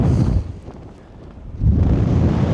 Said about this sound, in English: just see the wind pushing on the tent there. Look at this picking up now.